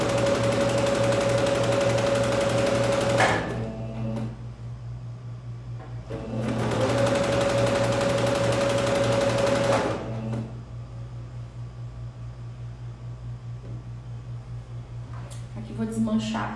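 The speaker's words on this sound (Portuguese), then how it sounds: "Então a gente prega primeiro aqui na máquina. Só passa uma reta." A sewing machine runs a straight seam on a jacquard dress, two loud sustained bursts of fast stitching separated by a pause, with a brief restart near the end.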